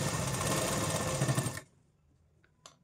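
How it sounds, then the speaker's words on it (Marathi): A sewing machine runs steadily for about a second and a half while stitching piping onto a blouse, then stops abruptly, leaving near silence with a couple of faint clicks. "शिलाई मारताना आपल्याला अगदी ॲक्युरेट मध्ये शिलाई मधोमध आली पाहिजे"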